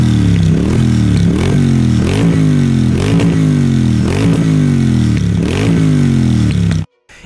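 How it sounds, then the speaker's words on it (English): A Triumph Bonneville T120 parallel-twin engine revving repeatedly, rising and falling in pitch in a lopey rhythm of about six throttle blips, loud and close, cutting off abruptly at the end. "Triumph has been making a version of this engine for decades, going back all the way to the 60s and 70s"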